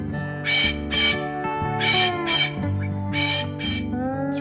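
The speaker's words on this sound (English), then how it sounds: "Pheasant." Pheasant calls ring out in loud, harsh squawks, about six sharp bursts in pairs over a steady backdrop of layered tonal sound.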